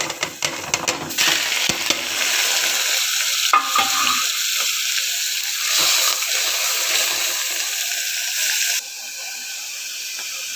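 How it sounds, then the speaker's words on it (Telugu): Amaranth leaves sizzle hard in a hot tempering of cumin, urad dal, dried red chilli and garlic. A loud, steady frying hiss is stirred almost without pause and eases slightly near the end, with no one speaking. "పోపు వేగిపోయిందండి. దీంట్లో తోటకూర వేసుకున్నాం."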